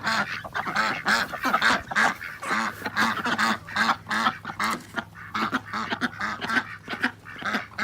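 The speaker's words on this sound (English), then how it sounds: "speaking of the ducks, they're being loud" Farmyard ducks quack loudly and repeatedly in uneven overlapping bursts, close by and dominating the scene, with several birds calling over one another and honking calls mixed in.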